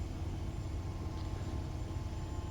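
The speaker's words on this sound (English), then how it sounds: "As you can hear, the RPM goes quite low actually." A Bell 407 helicopter engine idling at low RPM in the flight simulator X-Plane 12, a steady low rumbling drone with a constant hum, heard alone and unchanging.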